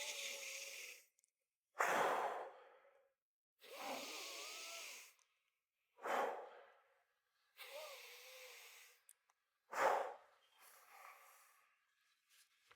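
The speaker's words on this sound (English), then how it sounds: "I'm gonna get plenty of deep breaths through the nose." Deep breaths drawn in and pushed out through the nose before a set in a weight-lifting workout, about six long, close, forceful inhale-exhale cycles with short pauses between them, heard alone.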